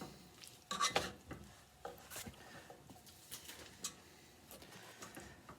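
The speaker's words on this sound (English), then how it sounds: "Stir this up." Salsa and cream cheese being stirred in a pan over low heat for chicken enchiladas, soft spoon scrapes and a few clinks against the pan, quiet and intermittent.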